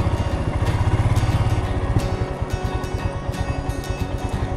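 A motorcycle rides slow U-turns and figure-eight maneuvers in a practice area, its engine thumping in a close, rhythmic low pulse that rises briefly and then settles back with no talk.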